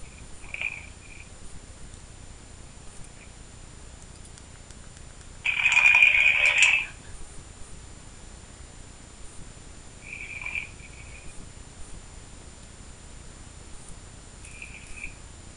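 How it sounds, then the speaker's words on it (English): A man snores over a phone line, thin and tinny, with faint breaths recurring about every five seconds and one louder, longer snore in the middle. "I'm on the phone with my best friend, and he's snoring"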